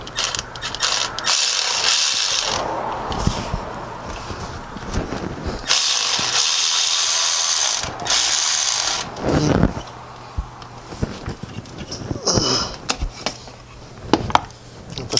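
Part tightened during a thermostat replacement on a 2014 Maserati Ghibli: loud, close ratcheting and mechanical clicking in bursts, with rubbing, knocks and handling noise between them.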